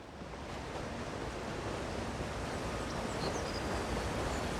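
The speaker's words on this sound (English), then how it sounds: "That is a very noisy waterfall for how small it is." A small but noisy waterfall in The Elder Scrolls Online gives off a steady, dense rushing roar of falling water, constant and close with no pauses and no talk.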